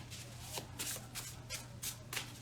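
Tarot cards are shuffled by hand in a series of soft, rhythmic riffling bursts, quiet and close, with a low steady hum underneath and no speech.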